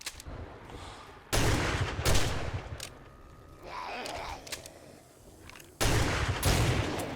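Shotgun blasts fired at a zombie horde in 7 Days to Die ring out as loud, separate booming shots spaced a few seconds apart, with clattering and faint mechanical noises between them.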